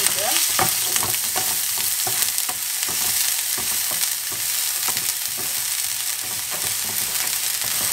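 Onions and green chilies fry in a pan for samosa filling, a steady close sizzle broken by repeated scraping stirs throughout.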